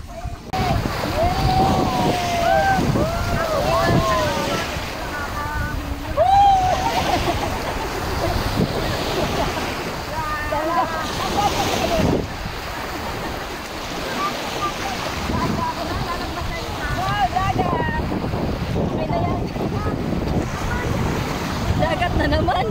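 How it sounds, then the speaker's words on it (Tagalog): Sea waves washing steadily with gusty wind buffeting the microphone, continuous and fairly loud, while several people chatter and exclaim over the surf. "Ito ang dagat."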